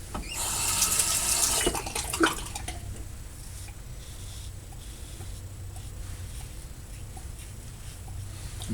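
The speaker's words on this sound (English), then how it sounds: "you gotta rinse them off a lot more frequently" Running tap water while a single-edge razor is rinsed at a bathroom sink, a loud close splash for about two seconds that settles into a softer steady trickle, with no talking.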